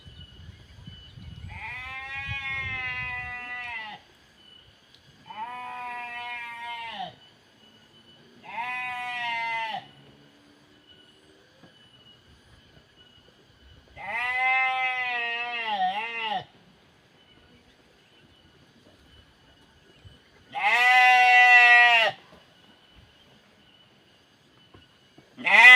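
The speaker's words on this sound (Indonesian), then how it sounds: "kambing bersuara terus dari tadi" Goats in a muddy rural village bleat loudly again and again, six long wavering cries spaced out over quiet gaps, close by, with faint background rustling and no talk.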